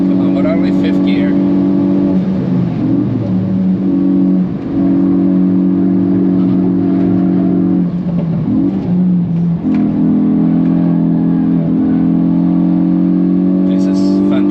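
A Hyundai i20 N hot hatch held at full throttle in fifth gear on the Nürburgring, its engine droning loud and steady from inside the cabin with brief pitch dips, and a voice speaking over it.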